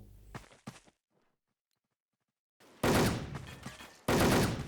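Gunfire in the online shooter Wolfteam comes as a short burst of shots, a near-silent pause, then two loud, sustained rapid-fire volleys close up.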